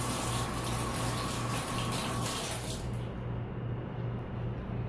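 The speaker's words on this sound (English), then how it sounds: "give my hands a rinse real quick" Hands rinsed under running water outdoors during beach cooking, a steady broadband hiss of flowing water that cuts off abruptly partway through, leaving a softer background hum.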